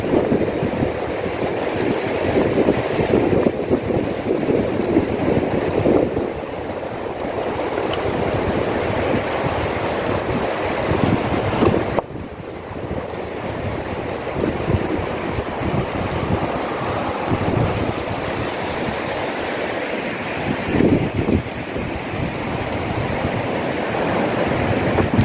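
Surf washes continuously onto Pasir Putih beach in Satarmese Barat, a dense, roaring wash of waves with wind, fairly loud and close, with no voices.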